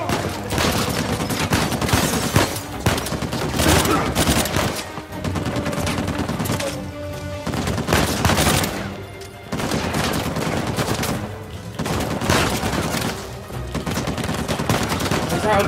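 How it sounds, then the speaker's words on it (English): Dense, sustained gunfire from the video game Uncharted 4, set during a frantic chase: rapid overlapping bursts and shots crackle loudly for the whole stretch with only brief dips, while faint voices come and go beneath. "Bullets! Oh crap!"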